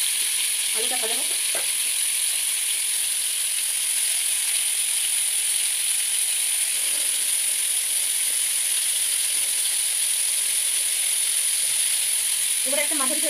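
Potatoes fry in a kadai for vegetarian aloo dum, giving a steady close sizzle and hiss through the whole stretch, with a few faint bits of voice near the start and end.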